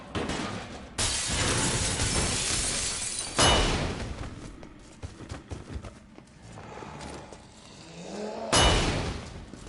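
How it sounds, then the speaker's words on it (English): Zombies batter a barricade in Resident Evil 3, loud crashing and shattering bursts with splintering impacts, separated by stretches of lower thumping and rumbling. "They're aggressively smashing on that."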